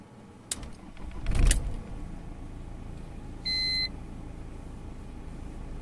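A BMW's ignition is switched off and back on, giving a click and a brief rustle of keys followed by a short electronic beep from the dashboard, heard close inside the quiet car.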